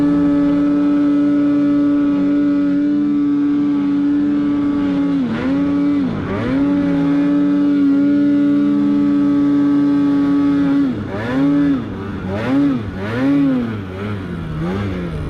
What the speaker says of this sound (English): the sled was revving